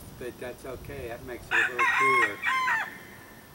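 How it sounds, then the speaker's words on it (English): Roosters crow several times on an overcast morning near a boat project, the drawn-out cock-a-doodle-doo calls rising clearly over someone speaking briefly at the start. "as you can hear the roosters crow"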